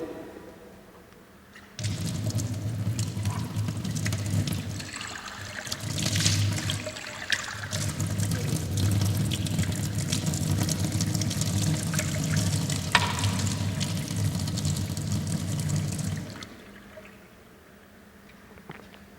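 Piped spring water, channelled from a small well about 300 metres away, runs from a pipe in a steady close splashing stream that starts abruptly, continues for about fifteen seconds, then stops.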